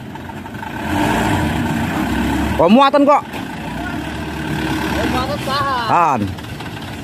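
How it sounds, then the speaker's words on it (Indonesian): A diesel truck engine rumbles at a steady, moderate level while towing a wrecked Hino box truck after a crash with a pickup, with men calling out over it twice. "Oke, ini truk akan menarik ya."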